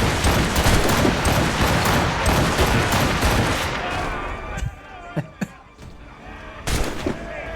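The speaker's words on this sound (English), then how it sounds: "Time for machine gun." Machine gun fire in Assassin's Creed Rogue, set in 1754, with dense rapid bursts over the first four seconds, then scattered louder single shots and booms as the barrage thins out.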